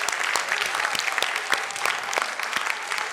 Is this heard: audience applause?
yes